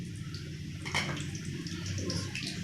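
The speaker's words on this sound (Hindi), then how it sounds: "उसमें हम पकौड़ियों को डाल देंगे।" Fried pakoras drop into a bowl of water with a soft splash and a short burst of sloshing and dripping, then a gentle, continuous watery trickle lingers close by at low volume.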